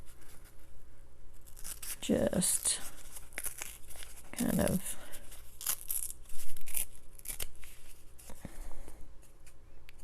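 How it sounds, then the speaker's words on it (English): Paper being torn by hand for a Christmas junk journal: two distinct close tearing rips plus lighter crinkling and handling noises, with someone speaking briefly between them. "I think I'm going to tear the paper"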